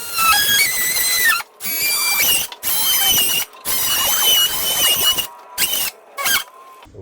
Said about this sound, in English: we're gonna take our multi-tool and we're gonna go ahead and cut this hole out